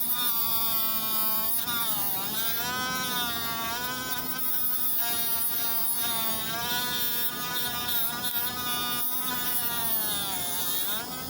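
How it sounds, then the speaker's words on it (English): A rotary tool grinds into the hole of a toy figure's torso, giving a steady, continuous high whine with wavering pitch that runs close and loud for the whole stretch, with no talking over it. "You would just put this in the hole right here and just grind it."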